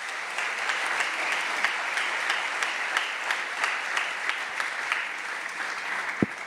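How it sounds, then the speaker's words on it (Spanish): A church congregation breaks into strong, sustained applause, a dense wash of many hands clapping steadily with no talk over it, ending with one sharp knock. "Dale un fuerte aplauso al Señor."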